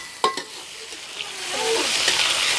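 Onions fry in a pan during home cooking of vegetable Maggi, a soft continuous sizzle broken by a few sharp clinks and scrapes of stirring near the start, growing a little louder toward the end.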